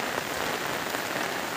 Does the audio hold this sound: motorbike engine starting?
no